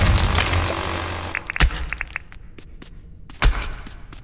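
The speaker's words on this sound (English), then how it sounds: "so I'm gonna drill through" A powered drill grinds loudly through rock in the Dinkum video game, then breaks off into scattered cracks and thuds of crumbling stone, with a heavy thump near the end.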